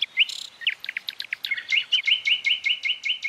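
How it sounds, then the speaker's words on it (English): A nightingale sings alone: rapid, varied phrases of sharp chirps and whistles, then a fast repeated run of bright notes, clear and fairly close. "The song of the nightingale, one of the most beguiling sounds in all nature."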